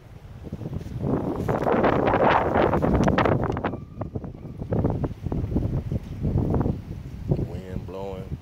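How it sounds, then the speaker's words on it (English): Steady wind rushes and buffets across the recording on a boat, loud and close, with people talking over it. "Wind blowing"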